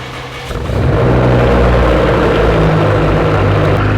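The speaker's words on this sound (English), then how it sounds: "Good news, guys, the car did start." An Audi RS6 with a V10 engine, previously dead from a flat battery, cranks and fires up, settling into a loud, steady, rumbling idle that fills the clip after a short quieter start.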